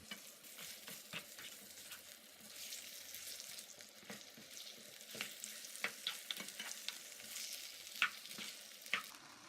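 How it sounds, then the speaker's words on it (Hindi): Cumin and chicken fry on high heat in a karahi, a steady crackling sizzle with intermittent stirring clinks and scrapes of a utensil against the pan, no voices. "इसके बाद ज़ीरा और चिकन शामिल करके तेज़ आंच पर इतना पकाएं कि चिकन गल जाए।"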